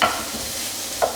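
Bacon sizzles loudly in a pan as a wooden spoon pushes it around, a brief burst of steady frying with a soft scrape at the start and end.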